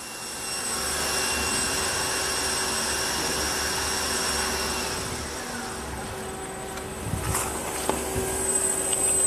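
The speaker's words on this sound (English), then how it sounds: "That's your live tooling. That's 2500 RPM. That's 5500 RPM." CNC lathe live tooling spins at 5500 RPM, a steady loud high-pitched machine whine with a sustained tonal hum, easing slightly near the end as small clicks and knocks appear.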